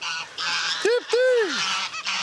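Two loud, close honks from a duck, the second longer and falling in pitch, with fainter calls and distant honking from many ducks around them.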